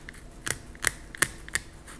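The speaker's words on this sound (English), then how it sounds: "to cut the dorsal fin off, you can use some scissors" Scissors cutting the dorsal fin off a large 11 lb whole salmon during filleting, heard as four sharp crisp snips at roughly even intervals, close and clear with no talk.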